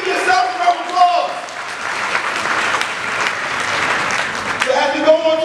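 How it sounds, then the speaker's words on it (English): An audience claps steadily for themselves after a survivor's talk, the dense applause mixed with a speaking voice at the start and end. "Give yourself a round of applause."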